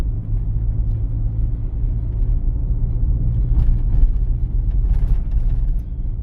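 Steady low engine rumble and road noise from inside a car on a driving lesson, moving at about town speed past a 20 km/h limit sign, continuous and close with no talk.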